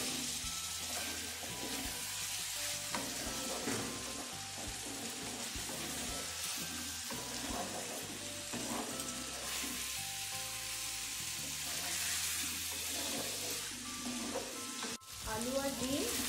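Potatoes and eggs fry in a pan with spices while being stirred, a dense, steady sizzle with scraping stirs throughout. Faint music-like tones sit underneath, and a sharp knock comes near the end.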